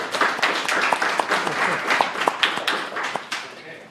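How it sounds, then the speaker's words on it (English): Applause from an audience at a talk introducing the Elm web programming language, a dense steady patter of many hands clapping throughout, fairly loud with sharper individual claps standing out. "I didn't expect applause, but it's nice"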